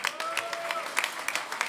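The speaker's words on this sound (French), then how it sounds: "On va les applaudir avant." A concert audience claps for soloists of the Chevatim ensemble, producing a short, even wash of applause with a few sharper claps standing out and voices faintly underneath.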